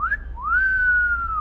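A person whistles at a girl: a short rising note, a brief pause, then a long sustained whistle that lifts and slowly falls, loud and close with no talk.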